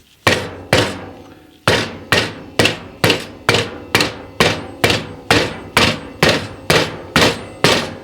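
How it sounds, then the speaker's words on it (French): A mallet taps the valves of a car cylinder head one after another, about sixteen sharp, ringing knocks in a steady rhythm, close and loud, with a short pause after the first two strikes. "Je vais vérifier que tout est bien en place en donnant un petit coup de maillet sur chaque."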